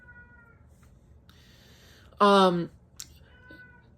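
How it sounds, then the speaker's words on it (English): A pet cat gives one loud, drawn-out meow close by, standing out sharply from quiet room tone, with faint talk and clicks around it. "It's my sibling's cat."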